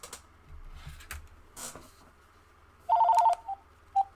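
A telephone rings indoors in a quiet room, with a cluster of short electronic ring bursts followed by two brief single chirps over faint background hum.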